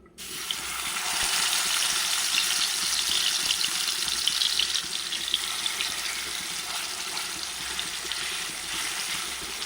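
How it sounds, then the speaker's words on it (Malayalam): Fish frying in coconut oil in a pan for fish curry, a steady, loud broadband hiss of sizzling that starts suddenly and continues without a break. No voices. "നമ്മൾ വെളിച്ചെണ്ണ ഒഴിച്ചു ഇനി നമുക്ക് അതിലേക്ക് മീൻ ഇട്ട് കൊടുക്കാം"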